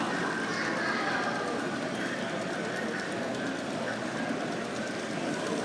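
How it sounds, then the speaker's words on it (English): A toy LEGO train circles a layout at a LEGO fan convention, giving a steady, continuous rolling clatter with a faint rhythmic click that stays even throughout, mixed with busy hall noise. "as the train goes around and around and around and around"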